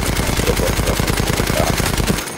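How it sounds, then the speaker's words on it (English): Rapid automatic gunfire from an enemy behind the player in a first-person shooter, a dense, loud burst of shots running continuously for about two seconds before cutting off. "There's the guy behind me shooting me."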